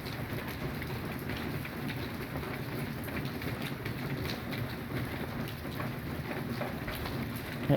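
Steady, dense rain pouring down continuously during a moderate thunderstorm with hail, with a broad hiss and low rumble throughout and no voices.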